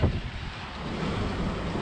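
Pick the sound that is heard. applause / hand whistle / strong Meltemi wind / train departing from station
strong Meltemi wind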